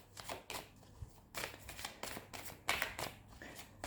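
Cards shuffled for a card drawing, giving a close series of papery riffles and soft taps at a fairly steady pace, moderately quiet.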